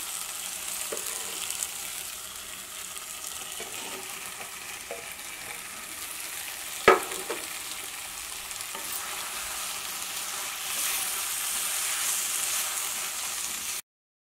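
Quiet, steady sizzling of okra frying in a pan, with one sharp scrape of stirring midway.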